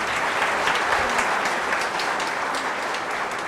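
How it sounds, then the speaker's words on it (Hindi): A seated audience claps steadily and evenly at a spiritual meditation gathering after a children's performance, a continuous close wash of applause with no voices over it. "आपने ताली बजाने में उतना प्रयत्न नहीं किया।"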